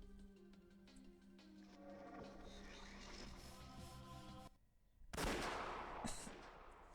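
Explosion effect from the visual novel game Umineko: a low musical drone fades, then a sudden loud noisy blast hits with a rumbling, crackling tail and a second smaller burst.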